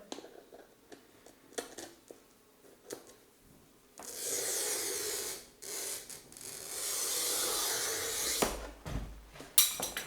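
A wheel glass cutter scores a sheet of textured stained glass along its texture line, making two long, steady, gritty hissing strokes with pressure, close and loud, after some quieter tapping and handling, ending in a sharp snap.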